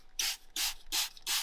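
Four quick squirts of leather cleaner from a spray bottle hit a scrubbing pad, each a short, close, hissing burst separated by brief pauses.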